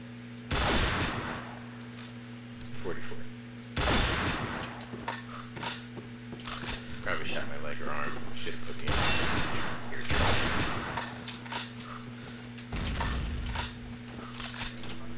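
Ruger Gunsite Scout Rifle shots ring out in Combat Arms. Loud, sharp reports recur at irregular intervals several seconds apart over a steady game hum, with voices at times in between.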